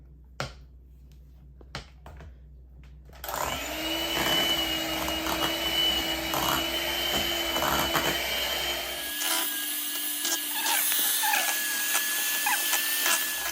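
Electric hand beater whirring through coconut date cake batter, starting abruptly after a few light clicks and taps, a steady close motor drone with rattling that shifts pitch partway through, no talk.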